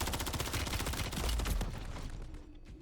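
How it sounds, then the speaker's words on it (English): Sniper and rapid gunfire in the video game Warzone rattles loudly in dense overlapping bursts, close and continuous before tapering off at the end. "I'm being sniped at"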